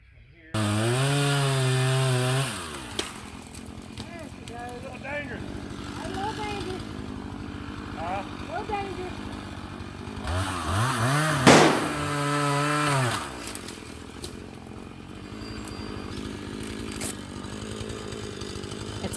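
A chainsaw cuts up wood on a farm, the engine revving into long loud bursts with idle stretches between, one cut near the start and a louder one later, while someone talks in between.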